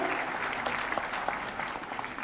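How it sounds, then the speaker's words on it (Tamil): An indoor audience claps to welcome a minister at a live book event, producing a dense, steady burst of applause at moderate volume with no speech over it. "அவருக்கு ஒரு பலத்த கரகோஷத்துடன் அரங்கத்திற்கு அழைப்போம்."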